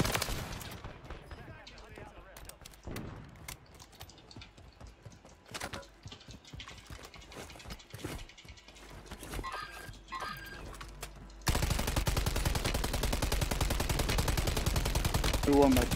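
Rapid automatic gunfire in Call of Duty: Modern Warfare III Resurgence, with scattered single shots and short bursts early on, then a loud sustained stretch of dense firing near the end, under occasional talk.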